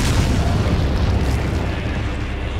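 A rocket launcher blast in Resident Evil 4: a dense, sustained low booming roar with heavy rumble filling the whole moment, loud and close, with no talking over it.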